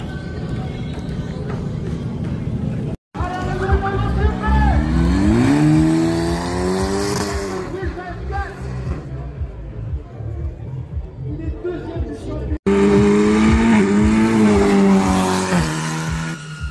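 Cars racing past at speed at an end-of-summer car show, engines roaring loudly with sweeping pitch shifts and tire squeal as they pass close by, crowd chatter in the background, and an abrupt cut between passes.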